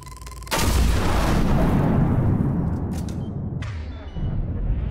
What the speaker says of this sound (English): Oh, at least I can shoot the damn thing.